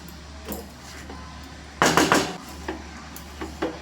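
Utensil scraping and knocking against a pan while rava laddu mixture is stirred, a cluster of sharp clinks in the middle with scattered lighter taps around it.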